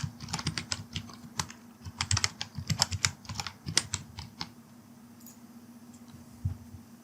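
A passphrase is typed on a computer keyboard, with quick, close, clicky keystrokes in an uneven burst that thins to a few final taps, with a faint steady hum underneath and no speech.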